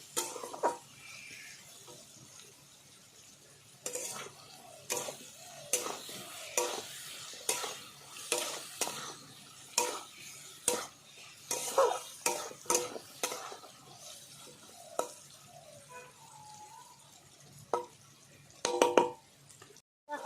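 Fish with bitter gourd and potato being sautéed in a pan, with a soft steady sizzle under repeated close scraping stirs of a utensil against the pan.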